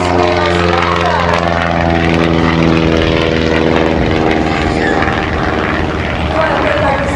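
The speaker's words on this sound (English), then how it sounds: "On his takeoff here, he's going to do for you what's called a dirty ball. Immediately upon takeoff." Propeller aerobatic plane taking off at a 2014 air show at MacDill, a loud, sustained droning engine roar with rising pitch, heard alongside a public-address announcer.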